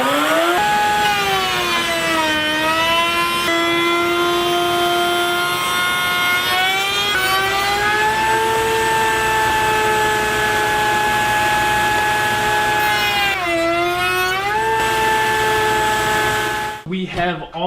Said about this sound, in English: You do have to make sure your router bit is set high enough to account for the base of this sled